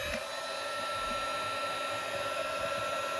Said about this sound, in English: Okay, so I'm just going to grab my heat tool